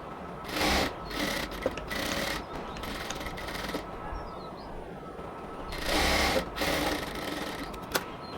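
A sewing machine stitches the shoulder seam of a cotton dress in short bursts of rapid mechanical whirring, with brief pauses between runs and a couple of sharp clicks, close and moderately quiet, with no talking.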